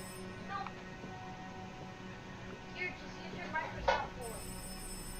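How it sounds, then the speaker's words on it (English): A telephone rings in the horror video game Rise of Insanity, with short bursts of ringing over a steady low background hum and game ambience. "Oh, the phone."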